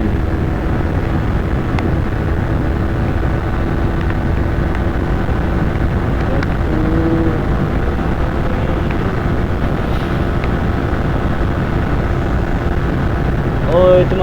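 A Suzuki GSX-S 150 motorcycle engine held at top speed, a constant steady drone with heavy wind rush, loud and unbroken throughout, while someone talks over it.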